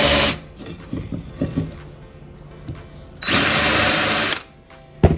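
A power drill with a countersinking bit whirs in two loud, close bursts, a short one at the start and a longer one later, with quiet handling noises in between.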